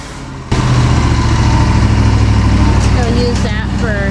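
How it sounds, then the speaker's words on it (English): Sawmill running while sawing out planks for a hay wagon floor, a loud steady mechanical drone starting abruptly and holding throughout, with a brief higher whine near the end. "Jim is busy sawing out some more plank."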